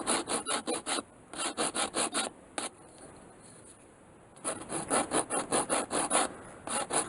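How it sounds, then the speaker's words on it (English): A sandpaper file smooths a wooden blank for a whirligig fishing lure with steady back-and-forth rasping strokes in two rhythmic runs, broken by a quiet pause with one single stroke, close and fairly soft. "here's a sandpaper file"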